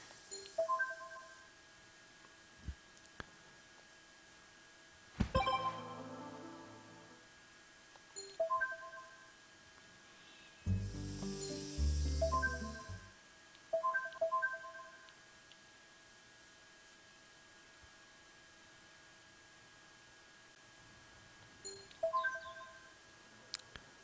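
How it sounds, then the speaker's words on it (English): Ringing while calling Sagamiya in the video game World End Syndrome: a soft repeating electronic ring tone pulsing at regular intervals over a long stretch, with some clicking and a brief louder noisy burst midway, quiet overall. "I just need to call Sagamiya's phone then."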